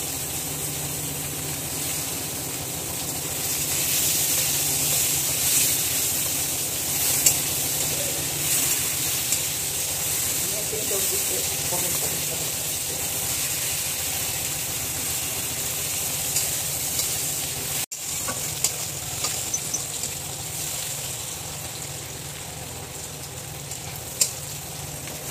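Chopped onions frying in hot oil after a cumin tempering for a saltwater tiger prawn dish, a steady close sizzle that continues throughout with faint stirring, broken by one brief cut partway through.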